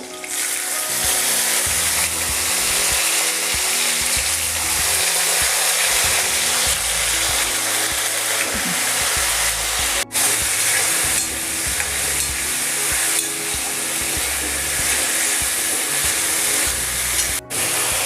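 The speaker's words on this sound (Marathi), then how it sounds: "आता लगेचच मी बटाटा टाकते" Diced potato frying in hot ghee with cumin seeds, a loud, continuous hiss and crackle of sizzling oil with occasional stirring sounds, close up and without voices.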